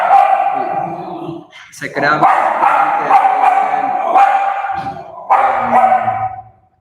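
A pet dog barks and whines at home during a thunderstorm; loud, close yelps recur in several bursts while a person keeps talking.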